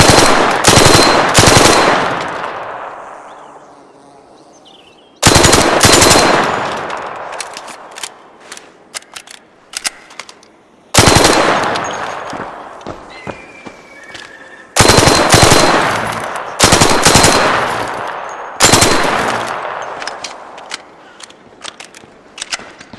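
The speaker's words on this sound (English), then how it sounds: "This guy's a little SMG, and this thing's fully automatic." A small fully automatic SMG firing light ammo at a video game gun range, loud bursts of rapid fire in five separate strings, each followed by a long decaying echo and quiet gaps between.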